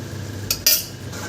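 A metal spoon scrapes and clanks twice against a cooking pot while ghee and garam masala are stirred into jackfruit curry, two sharp bright knocks close by over a low stovetop hum.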